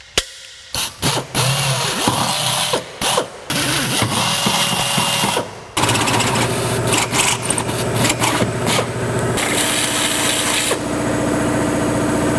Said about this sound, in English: that I can just drill these holes.